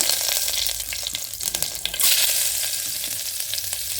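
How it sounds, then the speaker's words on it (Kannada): Mustard seeds and chana dal crackle and sizzle in hot coconut oil in a pan, a dense continuous frying hiss with scattered pops and a brief stirring clatter. "ಎಣ್ಣೆ ಕಾಯಿತು ಒಂದು ಸ್ವಲ್ಪ ಸಾಸಿವೆ ಚಟಪಟ ಹುಡ್ಕೊಳ್ಳೋಂಗೆ ಹಾಕ್ಕೊಳ್ಳೋಣ ಹಾಗೆ ಸ್ವಲ್ಪ ಕಡಲೆಬೇಳೆ ಹಾಕ್ಕೊಳ್ಳೋಣ"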